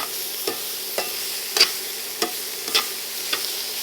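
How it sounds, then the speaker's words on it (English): Sliced chicken breast tossed with peppers and onions in a hot frying pan, a continuous soft sizzle broken by about seven sharp stirring clatters spaced roughly half a second apart, close and fairly quiet. "take our chicken breast that we just sliced and drop it right back in. Toss it with the peppers and onions for a few minutes"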